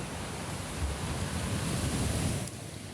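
Wind and surf roar at a seaside as a typhoon approaches, a dense, steady wash of noise close to the microphone with no voices.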